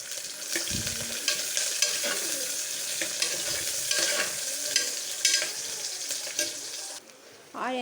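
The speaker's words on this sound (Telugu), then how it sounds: "కొంచెం గోల్డెన్ ఫ్రై అయ్యేంత వరకు వేయించుకోవాలి." Onions, green chilies and curry leaves fry in a pan for a Telugu goat head curry, giving a steady close sizzle with scraping stir strokes throughout, ending in a brief quieter moment.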